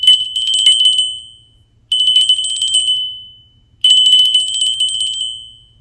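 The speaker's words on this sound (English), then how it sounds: "So I have a little bell here" A small bell is shaken three times, each bright jingling burst ringing out and fading before the next, loud and close.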